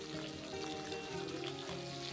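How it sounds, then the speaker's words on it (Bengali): Bata fish fry in a pan of hot oil, giving a steady, dense sizzle that stays even throughout, with no voices present. "কয়েকটা বাটা মাছও ভাজা হচ্ছে।"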